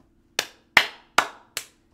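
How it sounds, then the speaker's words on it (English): Four sharp, evenly spaced hand claps, each close and crisp with a short decaying ring, separated by near silence. "Why are you clapping?"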